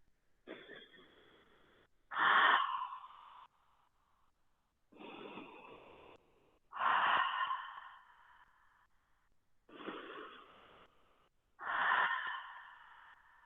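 Slow, deliberate yoga breathing held in a twist pose, six close, soft breaths alternating gentle inhales with louder, airy exhales in a steady rhythm, alone in a quiet room.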